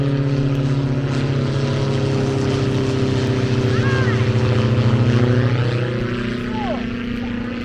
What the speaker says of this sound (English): How many planes are there?